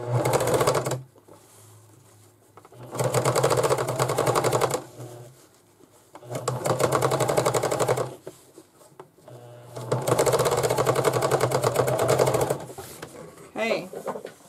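A sewing machine stitching fabric in four or five bursts of rapid, even mechanical chatter, close and loud, separated by pauses where the needle stops, with a voice speaking in between.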